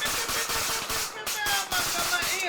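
Gunfire during jungle soldier training, dense rapid bursts of shots crackling almost continuously and loudly for a few seconds, with voices mixed in under the shooting.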